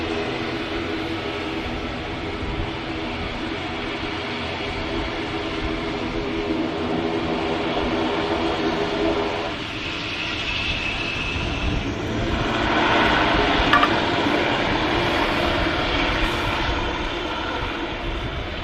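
At Manchester Airport, an airliner roars down the runway on its takeoff roll, a loud continuous jet rumble that swells and shifts in pitch toward the end, with no talk over it.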